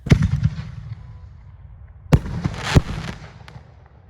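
Firework shells launch from consumer 4th of July cans in sharp thumping pops, a quick cluster at first, then after a pause several more loud bursts echoing outdoors.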